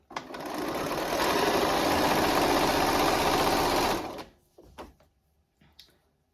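Domestic sewing machine stitching fleece fabric for a children's hat, a close, fast continuous whirring run of about four seconds, followed by a few soft clicks and handling knocks.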